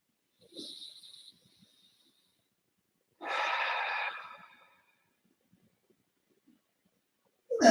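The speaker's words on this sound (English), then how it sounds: "Take some full breaths." Slow, deep breaths during a yoga class, with a soft nasal inhale followed later by a long, airy exhale, close and isolated in a quiet room.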